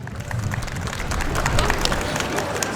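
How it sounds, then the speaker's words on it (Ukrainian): Audience at a Christmas concert in the Boyko region claps steadily, a lively mass of hand claps with some crowd murmur, fairly loud and continuous throughout. "Для Владислава оплески"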